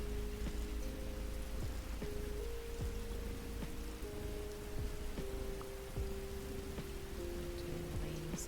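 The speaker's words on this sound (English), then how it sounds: "Turn the rainy sounds on a little bit." Steady rain pattering on a surface, played as a continuous ambient loop at a constant level, with faint low tonal hum from other sounds threaded beneath it and no talking.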